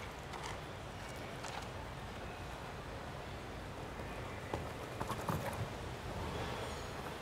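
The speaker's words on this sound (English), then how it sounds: "He's riding Madeline Winter-Schulz's Gotha." Horse hooves at an international show jumping Grand Prix in Hong Kong, faint and distant clip-clop under steady arena ambience, with a few slightly louder thuds toward the end.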